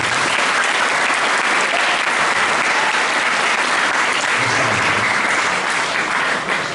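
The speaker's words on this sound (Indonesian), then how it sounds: "Tepuk tangan untuk kita semua." Loud, sustained applause from a large crowd, a dense steady clapping that fills the whole stretch without letting up.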